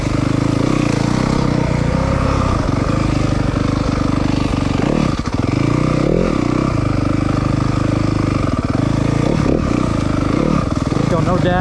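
A 2023 Yamaha 250FX dirt bike with a touchy throttle rides a trail, its engine buzzing close and steady with quick revs and blips, under a rider's talk.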